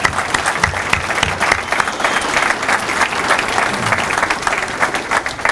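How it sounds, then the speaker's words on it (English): Loud, sustained applause from an audience at a fire department recruit graduation ceremony, honoring recruits and academy trainers, a dense steady clapping throughout with a few scattered cheers. "So big round of applause for these guys"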